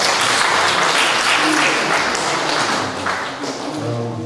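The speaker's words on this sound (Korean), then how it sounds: "박수 부탁드립니다." A crowd applauds steadily at the opening ceremony of a photography club exhibition, dense clapping filling the space and tapering slightly toward the end, with a faint voice beneath.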